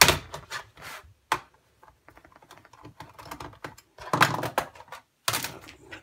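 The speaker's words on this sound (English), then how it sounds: "So let's take this screws out." Screws being undone from the bottom panel of a laptop, giving close, dry clicking and rattling taps in quick bursts with short pauses between them.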